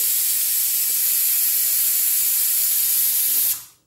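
A pressure cooker cooking dal-rice khichdi vents a loud, continuous hiss of steam after its whistles, steady and close, then cuts off abruptly near the end.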